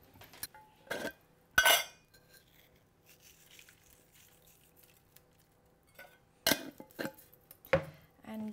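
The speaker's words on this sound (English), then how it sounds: "give them a little bit of a mix so they're all nicely coated" Onions with vinegar and olive oil are mixed in a dish, producing a few scattered clinks and scraping knocks of a utensil against the dish, close and sparse, with quiet gaps between.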